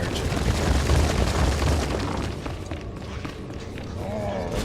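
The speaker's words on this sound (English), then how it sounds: "I completed it, detonated the explosives." Explosives detonate in the video game Star Wars: The Old Republic with a deep, rumbling boom that rolls out loudly at first and then fades into a quieter tail.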